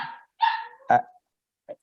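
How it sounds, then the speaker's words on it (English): A puppy barks in the background, giving three short, sharp yips followed by a fainter fourth, with silent gaps between them and no talking over them. "that's a puppy in the background"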